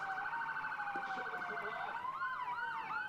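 Fire truck sirens at the Vernon Winter Carnival parade wail loud and close throughout, several rising and falling tones overlapping almost in unison with shifting pitch sweeps toward the end; no talking.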